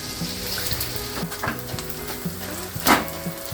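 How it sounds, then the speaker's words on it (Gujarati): Edible gum fries in hot ghee, giving a continuous bubbling sizzle with a few short knocks and a brief louder burst near the end. "ગુંદરને તળી નાખશું ઘીમાં ઘીમાં તળીશું"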